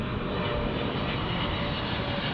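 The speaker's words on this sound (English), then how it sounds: "As we check out our Singapore Airlines 777 landing from Tokyo." A Singapore Airlines Boeing 777 arriving from Tokyo lands at LAX, its engines giving a loud, continuous, broadband roar that holds steady throughout.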